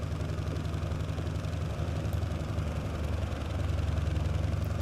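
Junkers F 13 vintage plane engine in a flight simulator game, a steady low droning hum idling continuously, fairly quiet and even, swelling slightly toward the end with no talk.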